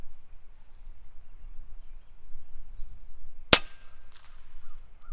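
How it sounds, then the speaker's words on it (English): An FX air rifle fires a single .30 caliber Hybrid slug at a target outdoors: one sharp, loud crack partway through, with a brief ringing tail, against quiet wind-like background. "I'm gonna shoot at the target first"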